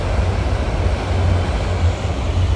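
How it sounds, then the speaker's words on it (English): A train crosses behind a rural property on a windy day, a steady low rumble holding throughout with a broad wash of wind-like noise over it, no voices. "there's the train crossing behind my property"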